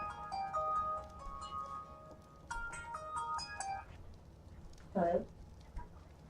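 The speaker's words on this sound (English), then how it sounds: "My phone is ringing." A cell phone plays a melodic electronic ringtone in two separate bursts, moderately loud, while a person talks and background game sounds continue.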